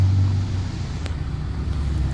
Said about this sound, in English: And of course there's a truck going by.